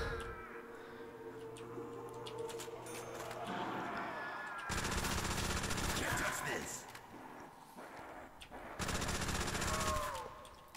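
Thompson submachine gun fire in a Custom Zombies game: two sustained bursts of rapid automatic shots, each lasting a few seconds, cutting over a droning game soundtrack and background effects.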